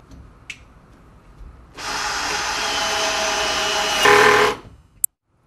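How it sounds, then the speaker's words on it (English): A power screwdriver driving screws into the hinges of a Red Sea aquarium cabinet, a single steady whirring run of a few seconds that rises in pitch and then stops, followed by a sharp click. "now I'm going to put in the extra 2 screws on every hinge to anchor it properly into position"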